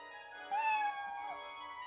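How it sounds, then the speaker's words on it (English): A single cat meows once in the video game Odin Sphere Leifthrasir, a short rising-and-falling mew, clear and fairly quiet against a silent background. "What is it, Kitty"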